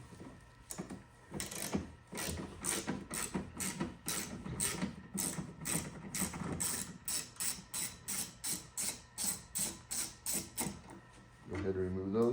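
A ratchet working T30 bolts loose on a Ford C-Max, clicking in a steady rapid rhythm of repeated strokes, close and fairly loud, with brief pauses between swings and a short voice at the end.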